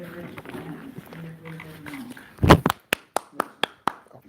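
Brief clapping at a Torrance city council meeting after a vote passes: talk first, then a short burst of claps followed by a handful of single, evenly spaced claps.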